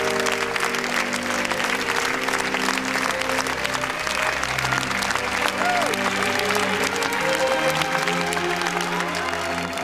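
A standing ovation after a film gala at the Cannes Film Festival, a large hall filled with sustained, dense applause from a big crowd, loud and unbroken throughout.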